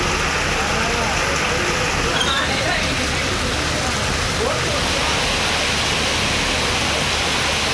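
Heavy rain falls across the Thuraiyur area of Tiruchirappalli district, Tamil Nadu, as a dense, steady roaring hiss that stays loud and unbroken throughout.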